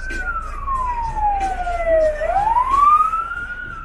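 Loud, close ambulance siren wail glides down in pitch, then swoops back up, over a low road hum, in rain.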